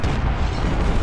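Cannon fire in the Civil War strategy game Ultimate General: Civil War, at the Battle of Cold Harbor: a brief, heavy, rumbling boom that sounds close and dense, with no pause through its length.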